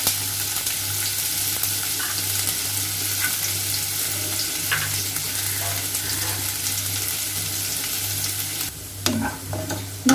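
Chopped onions sizzle steadily in a hot pan, a continuous frying hiss with occasional scrapes of stirring, close and fairly loud, with a brief clatter near the end.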